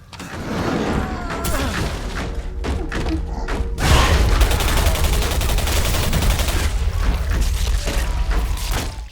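Gunfire in the shooter game Singularity, dense rapid shots and heavy thuds filling the whole stretch, growing louder and more continuous midway, with faint voices mixed in.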